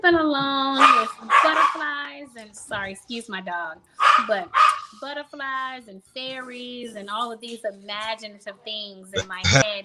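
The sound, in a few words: dog barking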